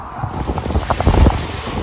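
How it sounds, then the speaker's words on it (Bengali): Strong wind gusts roar across a river during a storm with rain, a steady rushing blast swelling loudest near the end, with water and boat noise mixed in. "আর প্রচণ্ড বাতাস আর বৃষ্টি"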